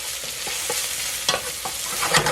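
Lightly yellowed onions sauté in a pan with a constant close sizzle, punctuated by several soft scraping stirs of a utensil, no speech.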